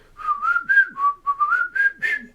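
Someone whistles a tune from Snow White: a clear, solo run of about eight short, bouncy notes in a steady marching rhythm, with no other sounds.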